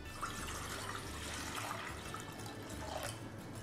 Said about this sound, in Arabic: هنحط مية